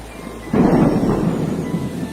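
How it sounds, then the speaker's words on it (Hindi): A deep rumble of thunder rolls in over a steady wash of heavy rain, loud and close. "अचानक एक दिन तेज बारिश होने लगती है"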